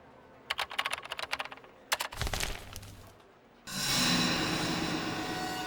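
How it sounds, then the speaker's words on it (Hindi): A password typed on a computer keyboard: rapid light key clicks in two quick bursts, then a louder clatter and a sustained rushing noise that takes over, with no talking. "जरा इसे टाइप करके देखो, AIDA, आइडा"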